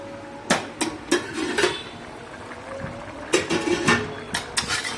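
Metal lid set onto a pot of simmering Bengali fish curry with potato, pointed gourd and tomato: two separate bursts of sharp clanking knocks, each a cluster of several close, fairly loud taps, with a low bubbling bed beneath.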